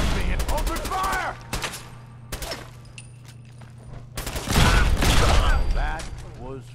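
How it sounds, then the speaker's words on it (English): Gunfire in a video game comes as bursts of rapid shots and louder volleys, with a low mechanical hum underneath and voices speaking between and over the shooting. "Playing games with me and open fire!"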